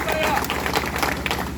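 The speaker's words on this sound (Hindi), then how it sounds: "इस भाई के लिए जोरदार ताली" Rally crowd claps in a dense, continuous burst of applause for a speaker, with a voice talking loudly over the clapping.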